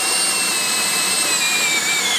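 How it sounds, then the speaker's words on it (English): A power drill whines steadily while boring a hole for a greenhouse hose, a high continuous tone that shifts slightly in pitch throughout. "I'm going to drill a hole where I want the hose to come up through."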